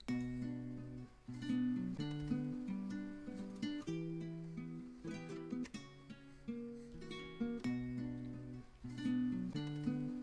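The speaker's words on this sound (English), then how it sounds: "the first thing I started with was recording the chord progression" Spanish-style guitar chords ring out in a repeating progression, each change struck cleanly, with a quick strum now and then at the end of each bar, played alone and clearly.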